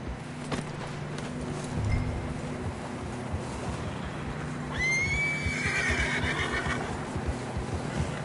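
Horse whinnies in the Red Dead Redemption game, a rising then descending neigh standing out over outdoor ambience with hoof sounds and low rumble; no talk.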